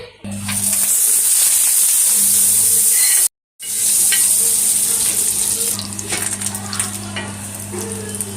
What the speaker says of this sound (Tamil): இப்போ தோசைக்கல்லில் போட போகிறோம். பட்டர் வைக்க போகிறோம்.